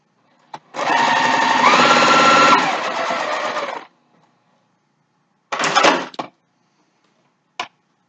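A sewing machine hums through a steady three-second burst of stitching along the folded fabric edge of a face mask, then falls silent before a shorter run and a brief final whir.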